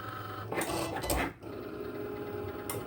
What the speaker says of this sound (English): I'm just going to go ahead and press my circuit to start printing